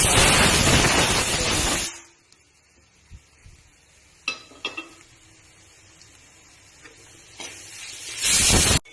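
Grated coconut roasting in a pan for a Kerala masala curry: a loud hissing stir at the start and end, with faint scrapes and clinks between in a quiet kitchen.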